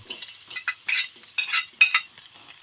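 Ginger and garlic sautéing in oil for a tilapia curry, a close bright sizzle broken into short bursts by stirring, with a few scraping clinks of a utensil against the pan.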